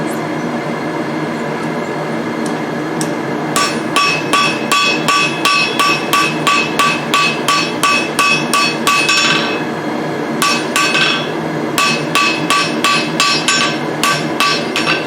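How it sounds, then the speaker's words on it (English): Hammer striking hot metal for forging tongs on an anvil, a long run of loud, evenly spaced ringing blows with a short pause partway through, close and clear. "This will be this piece right here that I'm hammering right now."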